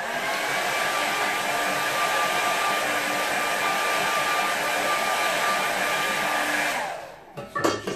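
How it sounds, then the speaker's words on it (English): A hair dryer blows steadily at close range to dry wet watercolour paint on a landscape painting, a loud constant whoosh that cuts off near the end, leaving a few faint knocks. "I'm going to dry some of that before it comes down too much."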